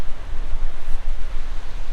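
Rushing water of Chitradhara waterfall in Basatar, Chhattisgarh roars as a dense, steady broadband wash, loud and continuous with no voices.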